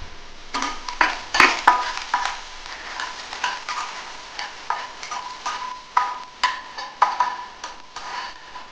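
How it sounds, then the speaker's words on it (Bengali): Lentil dumplings (bori) frying in hot mustard oil in a Bengali kitchen, with soft sizzling and a steady series of stirring scrapes and clinks from a utensil in the pan, fairly close and without talk. "তেল গরম হয়ে গেছে, এখন আমি বড়িগুলো দিয়ে দিচ্ছি।"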